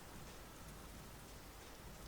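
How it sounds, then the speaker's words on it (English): Steady rain falling in the Euro Truck Simulator 2 driving game, a dense, even hiss of drops on surfaces that carries on unbroken throughout, with no talk over it. "I love a bit of rain."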